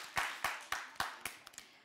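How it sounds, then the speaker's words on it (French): A small quiz-show audience clapping for a correct answer: about seven quick, sharp claps in a steady rhythm, fairly faint and close, then trailing off. "on applaudit"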